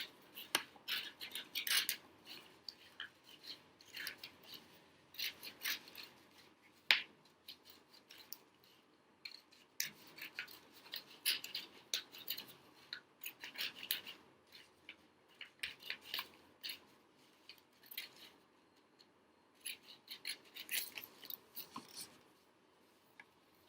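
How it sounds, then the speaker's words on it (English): Soft, intermittent snipping of scissors through paper, irregular bursts of cuts with pauses and faint rustling between them. "just cut along the circle outline. Be very careful with the scissors"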